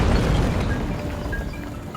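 A cannon fires in the Skylanders Giants video game, a loud, low rumbling boom that fills the whole moment and slowly fades without a sharp break.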